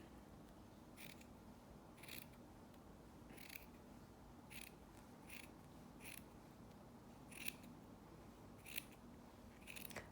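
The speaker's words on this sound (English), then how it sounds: "I'm going to cut this side." Scissors snip through a wool sweater being cut for felting, about ten crisp separate cuts at a steady pace, close and fairly quiet with no talking.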